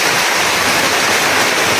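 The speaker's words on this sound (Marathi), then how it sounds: "लई जोरात पाऊस यायला लागला इथे" Heavy rain pours down outdoors, a dense, loud, unbroken roar of downpour filling the whole moment with no gaps.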